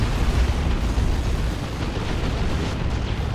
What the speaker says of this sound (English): Tank Buster Barrage doesn't hit